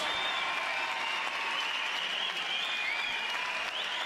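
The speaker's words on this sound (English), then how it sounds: "let's have a big round of applause for these 2 warriors" A crowd applauds two fighters after a five-round bout at a bare knuckle boxing event in Birmingham, steady clapping from a distance with a constant arena hum, no voice on top.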